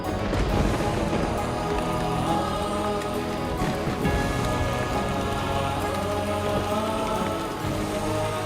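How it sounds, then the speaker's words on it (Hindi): Heavy rain drums continuously on surfaces, a dense, loud patter with a faint rumble of thunder underneath, steady throughout with no talking. "कितनी तेज बारिश है आज"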